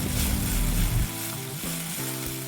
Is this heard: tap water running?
no